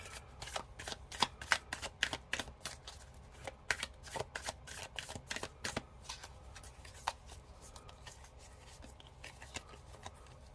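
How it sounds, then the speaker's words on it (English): A deck of Affirmator oracle cards being shuffled by hand, with quick rhythmic riffles and soft flicks close by that thin out after about six seconds, at low volume with no talking. "pull some oracle cards"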